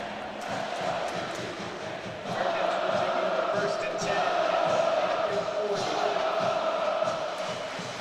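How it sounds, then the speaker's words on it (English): A college football stadium crowd at a Cincinnati Bearcats versus Pittsburgh Panthers game keeps up a steady, dense roar that swells louder after about two seconds and holds, with scattered shouts inside the wash of noise. "And just listen to that crowd."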